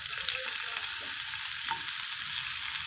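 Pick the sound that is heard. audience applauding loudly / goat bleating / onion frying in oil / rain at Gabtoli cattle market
onion frying in oil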